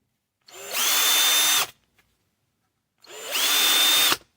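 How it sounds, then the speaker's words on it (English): A power drill with a dull bit whines steadily through metal in two bursts, each about a second long, separated by a short pause, close and loud. "And so I'm just going to drill right straight through here."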